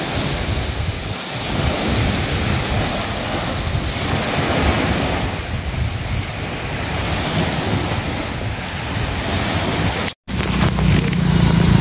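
Ocean waves at a seaside farm property, with continuous roaring surf and heavy wind buffeting the microphone, loud and steady throughout apart from a brief dropout near the end.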